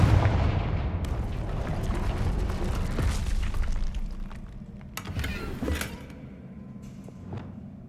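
In the Hogwarts Legacy game, a Confringo fire spell erupts in a loud booming blast with crackling debris, followed by smaller thuds and impacts that fade over several seconds.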